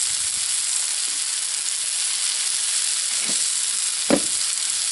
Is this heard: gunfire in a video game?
no